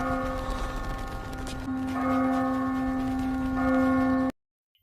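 A bell rings with a sustained metallic tone, struck again partway through so the resonance swells, then cuts off abruptly.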